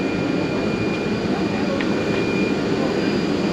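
Steady rumble of a moving train on the ride from Lisbon to Porto, a continuous low rolling noise with a faint high whine, heard from inside the carriage without talk.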